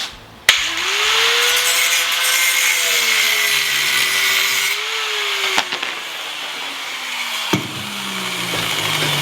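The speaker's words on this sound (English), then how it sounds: "cut it off with a cut-off wheel on my grinder" An angle grinder with a cut-off wheel slices through round steel stock clamped in a vise: a loud, close, steady abrasive whine kicks in abruptly and holds, its pitch sagging and rising as the wheel bites, with occasional sharp knocks.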